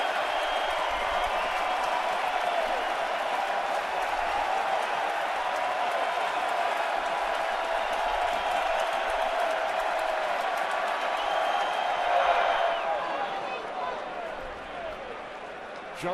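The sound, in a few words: baseball stadium crowd cheering during playoff game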